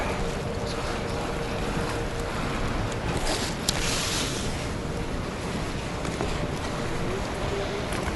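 Rough, stormy Mediterranean sea waves at Alanya, Turkey, wash and churn steadily in rain with wind buffeting the microphone, a constant loud roar throughout.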